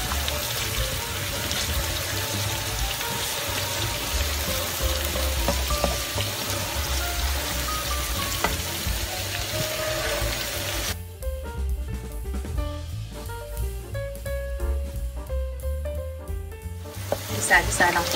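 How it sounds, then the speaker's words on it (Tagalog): Onion and garlic sautéing in a pan, a steady close sizzle that runs throughout, with stirring scrapes and a brief watery rush from a tap midway. "Salang po natin ng konti ang ating sibuyas at bawang."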